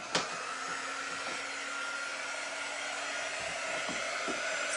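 A hair dryer runs at a steady high whine from start to finish, close and constant, with a small click at the start and a few faint knocks partway through.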